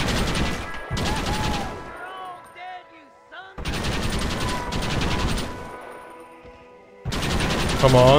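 Bursts of rapid gunfire from a Red Dead Redemption shootout at a fort, several loud volleys separated by short pauses, with a brief spoken remark during a lull.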